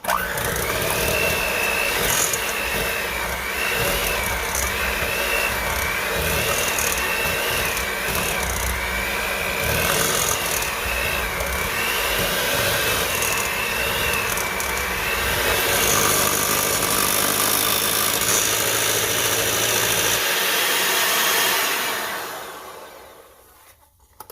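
An electric hand mixer whirring through chocolate chip cookie pie batter, a loud steady motor drone with a wavering whine that shifts as the beaters move, then cutting off near the end.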